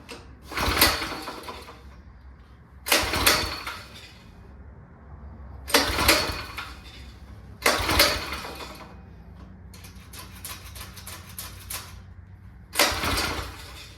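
A go-kart engine is cranked again and again, with six separate bursts of a few seconds each, loud and close, and quieter pauses between the tries. The engine does not catch.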